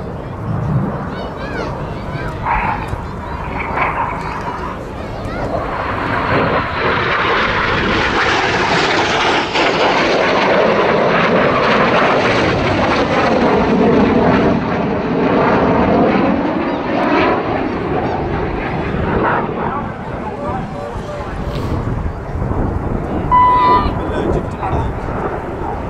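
Aerobatic display aircraft at the RAF Cosford Airshow, performing synchro passes and a barrel roll: a loud, sustained engine roar rises and sweeps overhead with a Doppler-like pitch shift, with a commentator's voice over the public address.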